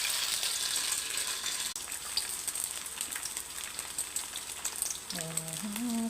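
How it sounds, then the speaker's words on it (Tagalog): Oil bubbles and sizzles steadily in a pan with a bright crackling hiss; a short tonal whine enters near the end. "Sa medyo kumulo na yung mantika."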